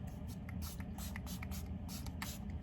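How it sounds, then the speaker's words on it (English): Setting spray misted onto a face in a few quick soft hissing puffs, close and fairly quiet, over a steady low room hum. "put setting spray down first"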